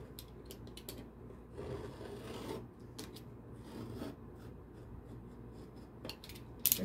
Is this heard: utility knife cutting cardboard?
yes